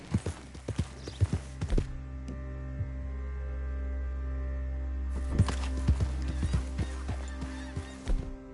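Horse hooves clip-clopping in Red Dead Redemption 2, heard as a few clear hoofbeats that fade into a low steady hum and then return as a walking rhythm over the hum.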